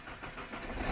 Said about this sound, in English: So now we're going to attach the battery pack to the battery to see if we can get this thing started up.